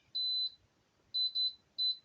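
An air fryer beeps as its timer is set to 30, giving a long steady tone, then a quick run of three short beeps and a final two-part beep, clear and close.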